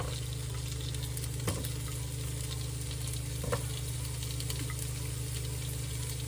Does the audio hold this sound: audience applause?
no